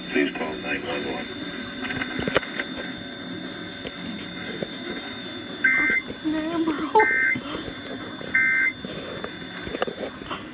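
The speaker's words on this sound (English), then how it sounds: "that was an official Amber Alert from State Police" Amber Alert emergency alert tones on a State Police radio broadcast: three short, loud, steady two-tone beeps spaced about a second apart, following radio talk and a low background.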